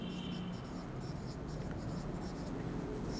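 Numbers are written on a board during a first-grade mathematics lesson, with soft scratchy strokes over a steady background hiss, and no clear speech over them.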